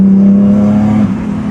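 A BMW E36 fitted with a Harbinger upgrade kit holds a loud, steady drone close by, with a strong low hum that dips slightly near the end, and no voices.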